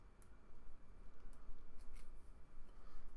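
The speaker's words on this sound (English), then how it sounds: "I'm going to cut this in half." Scissors snip through material to cut it in half while working on a display base with wire, faint close crisp cutting sounds over a quiet steady hiss.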